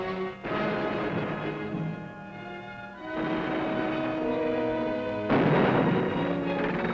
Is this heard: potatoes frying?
no